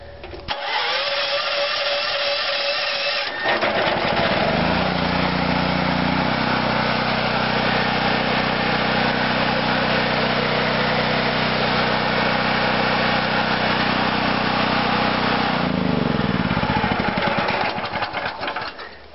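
An All Power America 6000 watt propane generator starts up after a few seconds of cranking, then runs with a loud, steady engine drone that holds for about twelve seconds before changing pitch near the end, with no talking.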